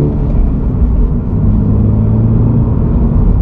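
Engine of a new Subaru BRZ (ZD8) accelerating, a steady, loud low rumble with a smooth, refined tone held throughout, no speech over it.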